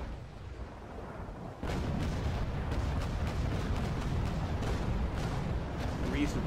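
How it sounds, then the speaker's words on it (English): A ranging shot goes off from a gun in a naval combat video game, a sudden heavy boom that becomes a loud, sustained rumble, with a voice talking over it. "Alright, we'll get our ranging shot in."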